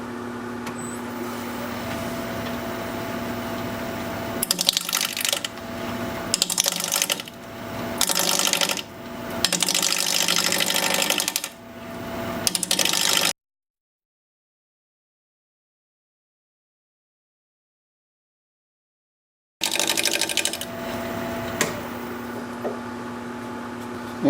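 A wood lathe turns a fir bowl at 750 RPM as a 5/8 inch bowl gouge cuts it. The steady hum is broken by rough, uneven cutting bursts, then cuts out for a few seconds before resuming.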